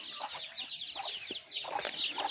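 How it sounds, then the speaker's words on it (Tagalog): Chicks and chickens peep and cluck at a morning feeding on a small farm, a busy, continuous chorus of high chirps close by with occasional deeper clucks. "Papatukain natin yung ating mga sisiw."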